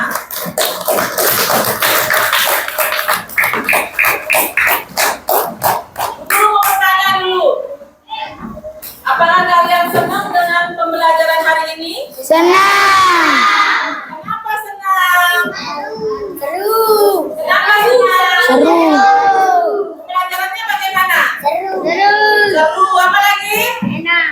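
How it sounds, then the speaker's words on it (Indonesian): Third-grade schoolchildren clap their hands in a classroom, a fast burst of claps opening the scene before children's voices and an adult speaking take over. "Kita beri tepuk tangan kepada kita semua"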